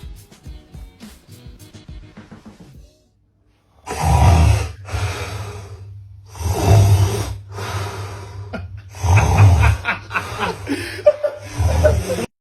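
A person snores loudly in a rhythmic series of rasping, snorting breaths, each burst followed by a short pause. Voices and faint sounds come first, before the snoring starts.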